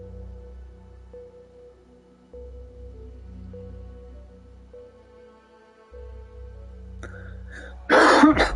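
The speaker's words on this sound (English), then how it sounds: "I've been having this stupid ass cough for how long now?" After a quiet stretch of low hum and faint steady tones, one harsh, sharp cough bursts out close by right at the end.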